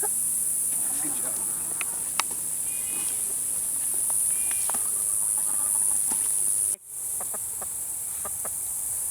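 Scattered clucks and short calls from a flock of chickens, including red chickens, sound around a farmyard, set against a constant high insect-like whine and a brief break in the background.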